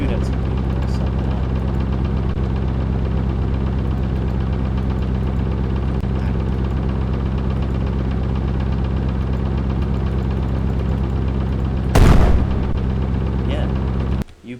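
A custom tank in the video game AW3 rumbles with a steady, loud engine drone, then fires one booming cannon shot near the end before the sound cuts off.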